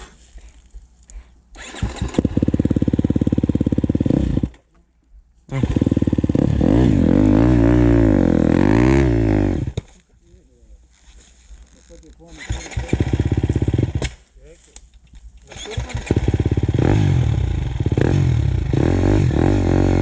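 A motorcycle engine cranks and catches, then revs loudly and pulls away, rising and falling close by, with brief pauses and a voice speaking in between.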